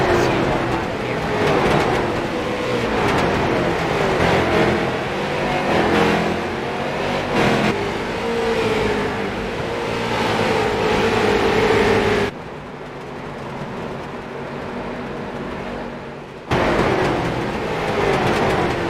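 Stock cars lapping the Oxford speedway oval, a dense continuous engine roar from the pack with rising and falling pitch as cars pass, a brief drop in level partway through, and an announcer talking over it.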